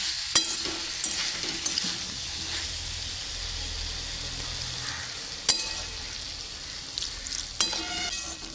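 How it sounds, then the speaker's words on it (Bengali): Tomatoes and a splash of water go into a pan of sizzling pumpkin and chickpea curry, giving a steady hiss and bubbling with a few sharp clanks of a spoon against the pan. "টমেটো দিয়ে একটুখানি জল দিয়ে দেবো"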